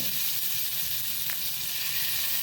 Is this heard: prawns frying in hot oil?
yes